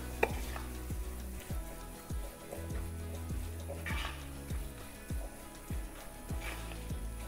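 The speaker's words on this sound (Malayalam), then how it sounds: "ഈ ഒരു എണ്ണയിൽ കിടന്ന് ഈ മസാലയൊക്കെ ഒന്ന് മൂത്ത് വരണം." Masala spices sautéing in oil for Kannur-style kadala curry, a soft low sizzle beneath a steady rhythm of spoon or spatula taps against the pan, quiet and close.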